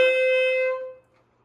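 Single saxophone note with a misadjusted end plug, a bright sustained tone that holds for under a second and then cuts off abruptly, played close and alone.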